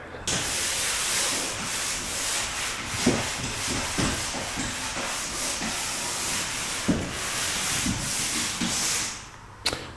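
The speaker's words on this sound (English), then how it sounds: "And these walls have to have a little sand." Walls in a 1940s house being sanded by hand, a continuous close scraping rasp with rhythmic strokes and occasional knocks for about ten seconds.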